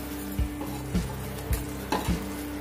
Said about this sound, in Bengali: আর দু মিনিটের মতো আমি এটাকে ফুটিয়ে ঘন করে নিচ্ছি।